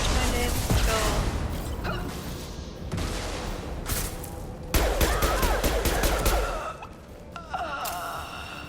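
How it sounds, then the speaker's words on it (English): Gunfire in Mass Effect 2: sharp repeated shots and rapid bursts crack out loudly, mixed with game sounds and grunting voices. "Firing a high impact shot!"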